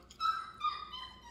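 A dog whimpers in two short, high, nasal whines close by, the second trailing off softly, with no talk over it.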